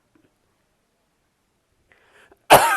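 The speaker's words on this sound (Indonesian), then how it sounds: "mohon maaf nih ya masih kondisi batuk ini ya" After near silence and a few faint rustles, a single sharp cough bursts out loudly up close at the end.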